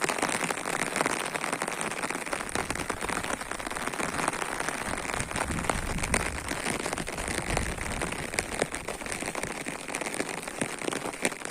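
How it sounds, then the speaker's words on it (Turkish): Heavy rain pours steadily in Muş, Turkey, a dense continuous hiss of drops pattering on surfaces close by with scattered sharper taps and no talk. "Şiddetli bir yağmur var arkadaşlar."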